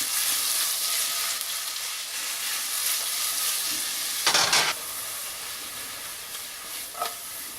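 Onions sweat in a pan for drunken clams with a Portuguese flair. A constant close sizzle runs throughout, with one louder burst of stirring midway and a smaller one near the end.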